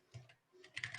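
Quick, close keystrokes on a computer keyboard in a short irregular burst, with no voices, growing denser toward the end.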